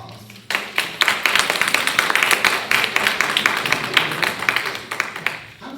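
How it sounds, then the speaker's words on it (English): Audience applause for Clinton City Schools Board of Education candidates at a public forum, a dense burst of many hands clapping that builds quickly and holds steady, with a few voices mixed in. "Please give them all a round of applause."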